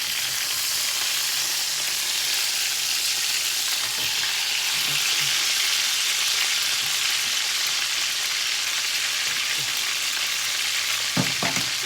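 Chicken frying in a pan, a loud, steady hiss of hot oil that stays even and close throughout, with a couple of soft knocks near the end as the piece is turned, no talking.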